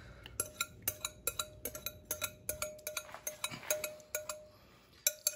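A utensil clinks and scrapes rhythmically against a bowl as mashed bananas are mixed for banana bread, with repeated close taps in an uneven stirring beat and no speech.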